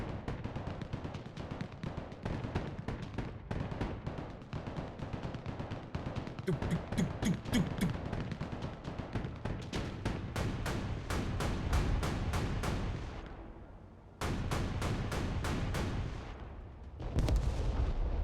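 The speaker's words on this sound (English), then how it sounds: "Oh no, machine guns." Dense, sustained bursts of automatic machine-gun fire in the war strategy game Broken Arrow, rapid crackling volleys running almost nonstop with a brief lull before resuming loudly, no talking.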